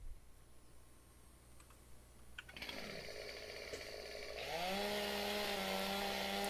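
A chainsaw trimming trees in Farming Simulator 17, starting up after a few quiet clicks, then idling and revving up into a steady, loud whine that holds to the end.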